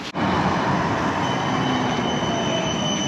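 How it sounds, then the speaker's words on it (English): An Amsterdam tram pulls into a stop with a loud, steady rumble of wheels on rail and thin high squeals, close by and continuous after a sharp onset, with no talking. "let's wait for the tram"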